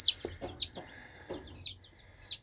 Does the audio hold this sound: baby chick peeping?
yes